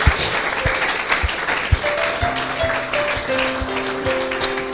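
Audience at a French-language church Bible teaching session applauding, a sustained spread of clapping with a few sharper claps standing out, joined by a sustained organ-like tone partway through.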